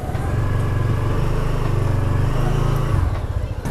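Kymco Xciting S 400i scooter idling through its stock exhaust, a steady, close, low engine drone with an even pulsing rhythm that holds for several seconds before easing slightly at the end.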